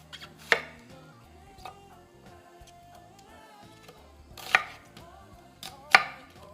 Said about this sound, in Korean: 양파 두 개 중에서 하나는 채썰어 넣을 거고요